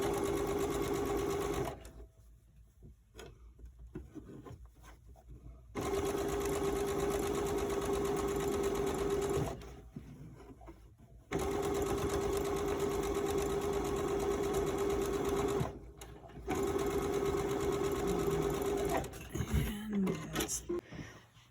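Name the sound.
sewing machine stitching a fabric face mask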